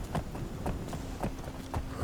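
Horse hooves in Skyrim clip-clop at a steady walking rhythm, about eight quiet, evenly spaced thuds in two seconds over a faint background.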